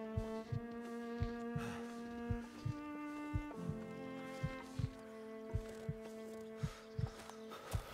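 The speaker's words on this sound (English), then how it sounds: "I still hear my heart beating." Heartbeat in the survival video game The Long Dark, a steady run of low thumps repeating about twice a second over a sustained droning hum, with no talk.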